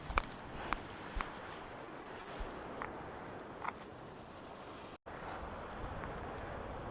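Sea waves wash steadily onto Madigudde beach near Bailur, Koppadamakki, in a continuous broad surf roar mixed with wind buffeting, with a few faint taps scattered throughout and no talking.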